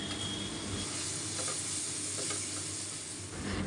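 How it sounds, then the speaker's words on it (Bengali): Onions fry in oil with salt, turmeric, chili powder, ginger and garlic, giving a close, steady sizzling hiss that runs unbroken throughout with no voices. "একটু লবণ দিয়ে পেঁয়াজটাকে আমি একটু ভেজে নেব তেলের সাথে"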